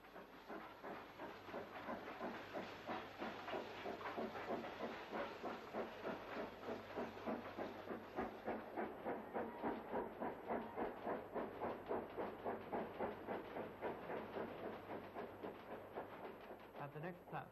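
HPS class steam locomotive chuffing steadily as it pulls a train away from Krishnagar in India, rhythmic exhaust beats with hissing steam, fairly distant and even throughout.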